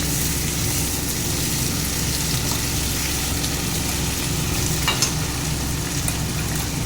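Cumin, coriander, ginger, garlic and black pepper sizzle in a pan for mutton curry, a loud steady frying hiss with faint stirring clicks throughout.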